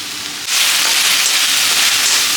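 Ginger, onion and green chili hit a hot pan, and a quiet hiss bursts into a loud, continuous sizzle that holds steady close up.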